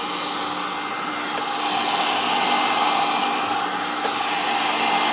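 A heat gun or blow dryer blows hot air onto vinyl hood graphic film on a 2019–2020 Chevrolet Silverado Trail Boss, giving a steady, loud whooshing whine that holds close and unbroken throughout.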